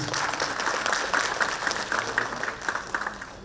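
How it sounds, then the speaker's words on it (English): Steady applause from a large audience, many hands clapping continuously and fairly loud throughout, with no talking. "Once a big round of applause from the audience."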